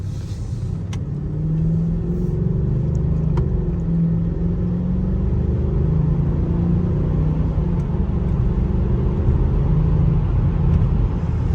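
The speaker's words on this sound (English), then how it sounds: "Let us listen to the engine a little bit." Mercedes-Benz E550 with the M273 5.5-liter V8 in sport mode, a deep engine drone rising and falling as it revs under load while driving, loud and close with steady road rumble and no talk.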